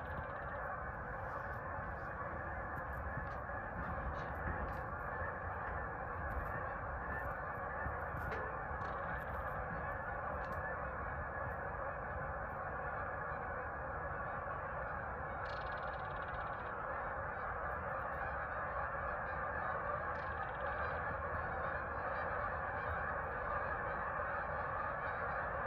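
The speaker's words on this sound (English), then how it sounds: "Look at all this geese. Where are they coming from?" A large flock of geese honking continuously near a sailboat at season's end, a dense, steady chorus of overlapping calls at moderate distance with no voices.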